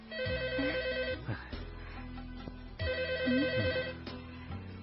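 A telephone rings in two electronic bursts of a repeating warbling tone, loud and close, with a short pause between rings.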